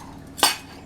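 A single brief metallic clink of a utensil against a bowl while mixing homemade low-carb taco seasoning, one sharp near hit against a faint background.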